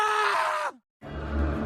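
A man screams in fright, a loud strained cry lasting under a second that cuts off abruptly, followed after a brief silence by a loud low rumbling rush.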